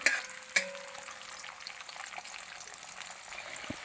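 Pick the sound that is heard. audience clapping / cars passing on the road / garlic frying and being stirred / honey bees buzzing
garlic frying and being stirred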